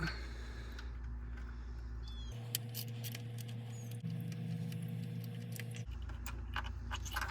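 A 1/4-inch drive ratchet backs two T25 bolts out of a 46RE transmission filter on a Dodge, giving quiet, scattered metallic clicks and light rattles over a low steady hum.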